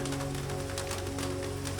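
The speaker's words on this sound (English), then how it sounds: "The sound of rain rises and falls around you." Steady rain falls around a rooftop greenhouse, a soft, even patter of drops that holds constant and faint throughout.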